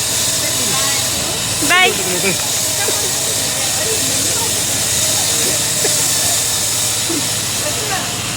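A steam train pulls away with a steady loud hiss of steam filling the air at close range, while people nearby call out farewells over it.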